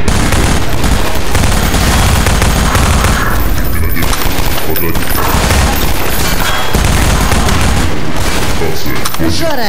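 Loud, dense bursts of rapid gunfire and booms in Half-Life 2 fill the whole stretch, with short pauses between volleys and shouting voices mixed in.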